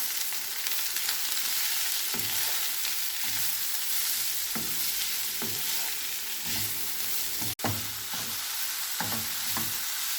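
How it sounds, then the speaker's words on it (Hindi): Chicken seasoned with black pepper, turmeric, salt and crushed red chili sizzles steadily in a pan while a spoon scrapes through it in repeated strokes, with one sharp clack near the end. "अब इन तमाम चीज़ों को अच्छे से मिक्स कर लेंगे।"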